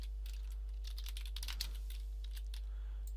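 Quiet, rapid keystrokes on a computer keyboard, clicking in uneven bursts with a brief flurry near the middle over a low steady hum, no voices.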